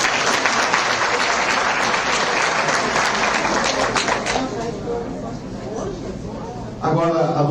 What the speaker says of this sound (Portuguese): A salva de palmas,